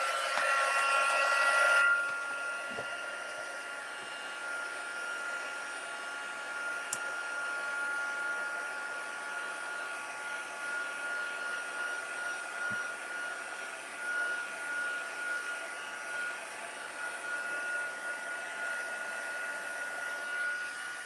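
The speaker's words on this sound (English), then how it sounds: "I'm actually just going to use a heat tool for a little bit here to make sure that all of my ink is" A heat tool blows hot air to dry ink before embossing on a watercolour card, a steady, close whooshing roar that runs continuously for the whole stretch, with no talking.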